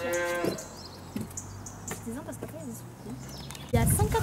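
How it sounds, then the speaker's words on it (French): Dairy cows moo on a farm, several drawn-out calls heard at middle distance, with a louder close moo at the end and a few faint bird chirps. "Il y a 198 vaches à la traite."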